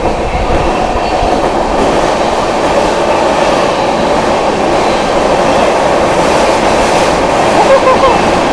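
The Poorvottar Sampark Kranti express runs at speed, a loud, continuous rumble of wheels and carriages with steady rhythmic clatter, heard from on board and close up.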